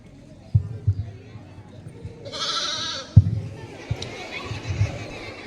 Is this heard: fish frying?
no